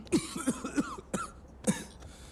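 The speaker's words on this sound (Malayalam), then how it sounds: "ചുമ." A man coughs several times in quick harsh bursts close up, with a throat-clearing rasp among them, no speech.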